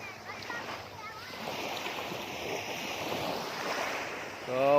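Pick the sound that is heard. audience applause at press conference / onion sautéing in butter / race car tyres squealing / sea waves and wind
sea waves and wind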